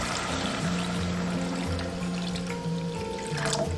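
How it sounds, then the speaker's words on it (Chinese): Clean water pours into a seasoned sauce in a pan for green Sichuan pepper grilled fish, a soft steady trickle and splash running without a break, faint and close, with no talk. "然后2分钟过后，我们倒入清水"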